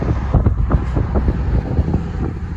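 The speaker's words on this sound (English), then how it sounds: "It's very windy." Strong gusty wind buffeting the microphone on a Chicago street, a loud, rough, low rumbling roar with irregular bursts throughout.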